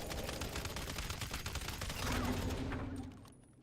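Rapid gunfire in the video game GTA Online: a dense, continuous volley of loud shots for several seconds, ending abruptly, with no talking.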